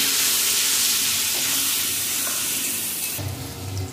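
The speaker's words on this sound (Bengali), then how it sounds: "লাল লাল করে মাংস আলুগুলো ভেজে নিয়েছি" Potato and pork pieces fry in hot oil, giving a bright, continuous sizzle that stays fairly even. Near the end the hiss eases and a lower clatter enters.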